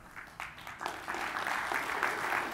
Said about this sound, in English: I'm clapping for you, Danny.